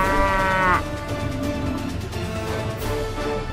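A water buffalo bellows loudly and close while being hunted by a lion on the grassland, one long harmonic moo breaking off into rough, noisy grunting and scuffling.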